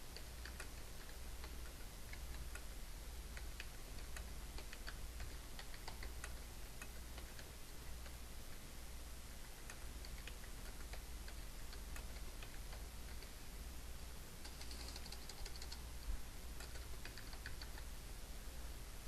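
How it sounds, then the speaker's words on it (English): Faint, steady clicking of keys, like someone typing on a keyboard at an even pace over a soft background hiss. "We start off by typing some notes about what happened in the group as a whole."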